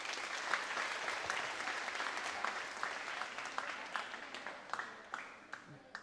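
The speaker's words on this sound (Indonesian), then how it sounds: "Tepuk tangan." Applause from an audience at a school Isra Mi'raj commemoration at a vocational high school in Padang, a steady wash of clapping that breaks into sparser, distinct claps toward the end.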